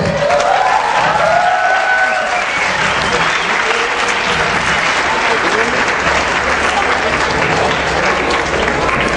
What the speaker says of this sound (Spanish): ¿Por qué no les dan un aplauso?